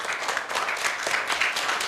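Students clapping at a school event, a brief patch of steady, moderately near applause from a small group with no pause.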